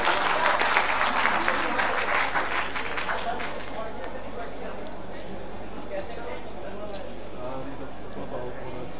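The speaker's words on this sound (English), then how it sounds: "Can you please have a huge round of applause?" An audience claps loudly at a film festival event after a Ganesh Vandana dance is announced, the burst of applause strongest at first and fading over several seconds into low room murmur.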